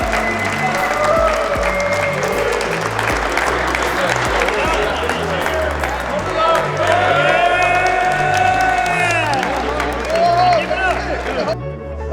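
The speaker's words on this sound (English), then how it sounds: "Big round of applause." An indoor crowd at a gathering of a basketball team in Tampa breaks into loud, sustained applause with cheers and whoops, and voices shout and talk over the clapping throughout.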